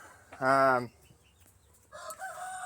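A rooster or hen gives one loud, harmonic call, followed by quieter farmyard bird sounds and some faint activity, close by on a small farm where chickens are kept for eggs.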